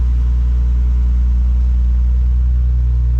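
Nissan Skyline engine running on cold start through an HKS Hi-Power 409 stainless exhaust and JJR front pipe, a loud, deep, steady exhaust rumble close by with no voices.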